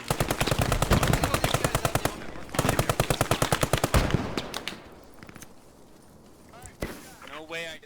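Rapid machine-gun bursts in the WWII shooter Post Scriptum, from an MG42 or BAR laying down suppressive fire: two long, loud, evenly spaced volleys up close, then a quieter tail of distant shots and battlefield noise.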